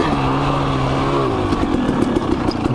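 A KTM 300 XC-W two-stroke dirt bike engine drones loudly up close while riding on a snowy trail, its pitch dipping then picking up with slight rev changes.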